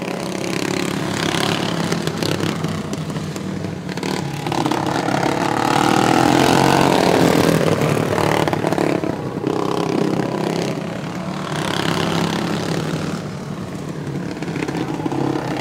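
Racing lawn mower engines run through a heat race, a steady mid-pitched motorized drone that swells and eases as the machines rev and clatter around the track, loud and continuous with no talk.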